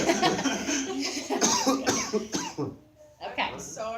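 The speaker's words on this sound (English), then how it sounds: "now I want you to cough, like a big cough" A loud, harsh cough bursts out close up during a respiratory massage, then trails off, with noisy breathy sounds and voices around it.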